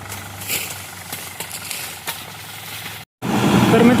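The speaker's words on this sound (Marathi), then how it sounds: "ट्रॅक्टर आलाय." A tractor engine idling steadily at close range, a low continuous rumble with a regular knock, broken by a brief dropout before returning louder and rougher.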